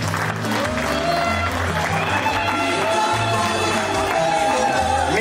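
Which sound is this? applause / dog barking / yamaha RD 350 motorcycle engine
applause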